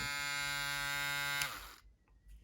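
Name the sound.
electric foil shaver running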